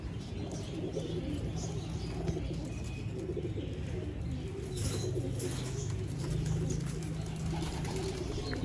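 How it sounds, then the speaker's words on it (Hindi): Pigeons coo steadily in a low, continuous murmur on a pigeon seller's rooftop in Sialkot, with faint wing flaps and chirps over a constant background and no talking. "वो बड़ा कबूतर भी आपको नज़र आ रहा है"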